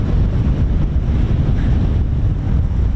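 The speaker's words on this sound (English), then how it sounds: "Goodness me, it's windy." Strong coastal wind buffets the microphone in a constant heavy roar, low rumbling gusts filling the whole stretch with no voices.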